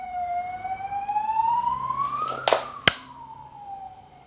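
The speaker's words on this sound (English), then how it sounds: "Every time an ambulance goes past, let's hope they are okay." An ambulance siren wails in a rising tone as it passes by, starting faint and growing louder, with a couple of sharp knocks near the end, heard from indoors with no talking.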